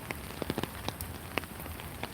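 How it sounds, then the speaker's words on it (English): Rain falls outside, drumming steadily on a surface, with scattered louder drips and taps over a soft continuous patter. "to play outside in the rain"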